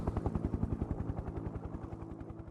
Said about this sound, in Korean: 회사 상공을 헬기가 날아다니며 목격자를 찾고 있습니다.